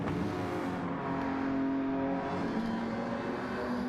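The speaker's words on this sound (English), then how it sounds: "You hear the popping and banging from these cars." Race cars roar around Monza in a racing video game, a continuous loud engine drone with shifting pitch and exhaust crackle, no voices over it.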